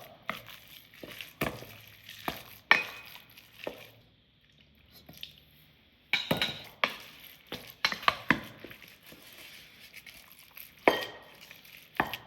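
Dumpling filling being stirred by hand with white pepper and scallion-peppercorn soaking water: a run of soft, wet squelching and scraping strokes against a bowl, with a brief pause midway before the mixing resumes, close and fairly quiet.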